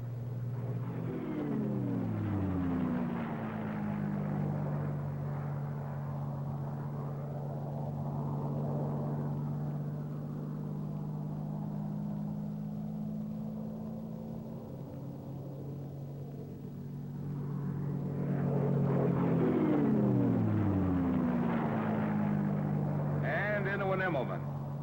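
A P-51 Mustang WWII fighter with a Merlin engine flies a loop, its droning engine note swelling, sinking and rising again in pitch as it climbs over and comes back around.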